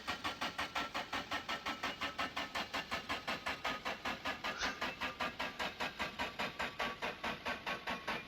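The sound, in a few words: car engine trying to start, from video game My Winter Car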